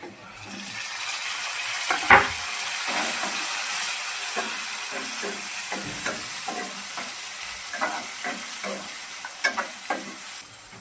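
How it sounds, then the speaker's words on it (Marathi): Tomatoes sauté in a pan over fried onions for a brain masala dish: a steady sizzle and hiss runs throughout, broken by scraping stirs and small clinks of the spatula against the pan. "आपण त्यामध्ये आता टमॅटो टाकून परतून घेणार आहोत"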